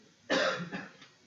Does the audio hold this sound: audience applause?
no